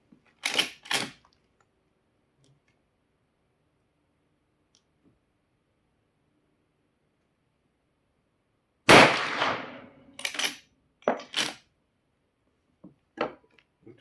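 Rossi R92 lever-action rifle firing test loads with MP-MOLDS cast bullets at an outdoor range: one sharp shot early, then a loud report followed by several quick cycling clacks of the lever action and a few lighter clicks, with quiet between.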